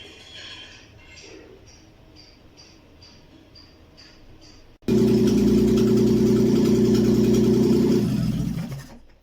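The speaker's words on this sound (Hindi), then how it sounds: "ये वायर उतारेंगे तो इंजन बंद होगा।" Car engine hot-wired to run on its own outside a vehicle: a faint hiss first, then the engine abruptly roars to life, running loud and steady at close range for several seconds before easing slightly.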